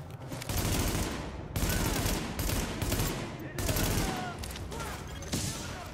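Sustained gunfire in the shooter game Tom Clancy's The Division, dense overlapping bursts of rifle shots that keep up nearly the whole time with only brief gaps, loud and close.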